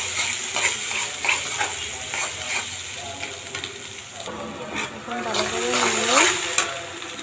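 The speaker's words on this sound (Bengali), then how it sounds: "এখন সাথে গরম মশলাগুলো দিয়ে দিচ্ছি এখন ভালো করেই নাড়তে হবে" Onions and garam masala stirred in a cooking pan for a chicken and new potato curry, giving a soft scraping sizzle with light spoon knocks, while someone talks over it.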